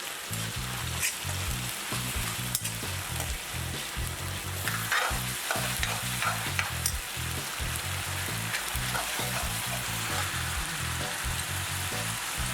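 Whole spices (cloves, black pepper, cinnamon and black cardamom) sizzle and crackle steadily in hot oil in a pan for a fish curry, with occasional stirring scrapes.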